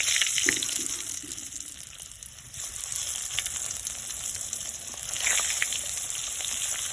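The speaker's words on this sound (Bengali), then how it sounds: "এবার আমি পটলগুলো দিয়ে দেবো।" Pointed gourds (potol) frying in hot oil seasoned with turmeric and salt, a steady watery hiss and crackle with a brief louder surge near the end, close and continuous, no voices.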